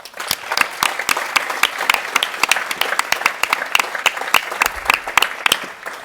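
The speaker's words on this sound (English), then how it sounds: "Please join me in giving these businesses a huge round of applause." Loud, close applause breaks out at a local business awards event, sharp individual claps standing out over a crowd of hands clapping steadily for about six seconds, no voices heard.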